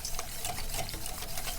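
Limoncello meringue pie filling being whisked in a bowl, a steady fast stream of close ticking, clattering whisk strokes with a wet, stirring texture.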